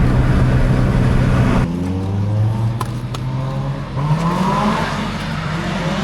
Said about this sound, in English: his car is loud